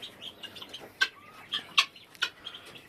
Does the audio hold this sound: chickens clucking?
yes